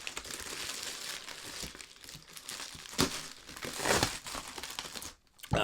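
A survival knife slices open a shipping envelope, bringing quiet crinkling and tearing paper sounds in uneven bursts, with a louder rip near the four-second mark and a short pause before the end.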